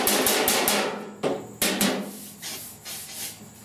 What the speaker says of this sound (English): Now I'm doing hammer off dolly, trying to low.